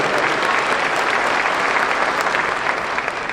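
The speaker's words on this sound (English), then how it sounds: "How about a round of applause?" Sustained, dense applause fills a high school commencement ceremony at Pisgah High School, a steady roar of many hands clapping at even loudness from start to finish.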